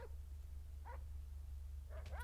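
A dog in a roleplay video game gives a few faint, high yips and whimpers spread over a couple of seconds, partly buried under a steady low rumble of background noise.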